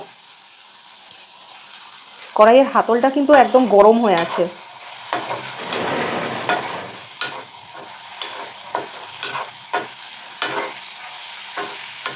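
Green chillies and black cumin seeds sizzle with prawns in a hot kadai, stirred with a run of scraping strokes; a short spoken remark comes early, then rhythmic stirring continues over the frying.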